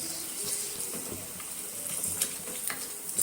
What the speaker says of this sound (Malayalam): ഈ സമയത്ത് നമുക്കിതിനെ ഓയിലിൽ നിന്ന് എടുക്കുന്നതായിട്ട്